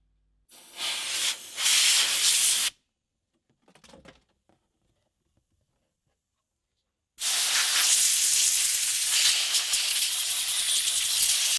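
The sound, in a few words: compressed air blowing dust out of an original Xbox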